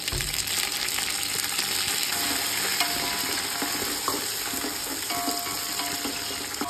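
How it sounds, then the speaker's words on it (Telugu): Onion, green chilies and mint leaves fry in oil for chicken biryani, giving a steady, close sizzle with occasional stirring scrapes, no talk. "ఆనియన్ ఫ్రై అయింది. ఇప్పుడు పుదీనా వేసుకుంటాము."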